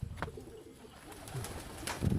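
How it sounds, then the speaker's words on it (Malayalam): Pigeons coo faintly a couple of times somewhere outdoors in Vietnam, short soft calls against light background noise. "പ്രാവുകൾ പറക്കണുണ്ടോ പ്രാവുകൾ"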